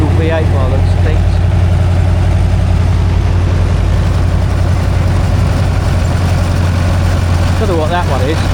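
Diesel V8 engine running at a country show near Ringmer, Sussex, a steady loud low rumble throughout with a constant hum, nearby and continuous, with someone speaking over it.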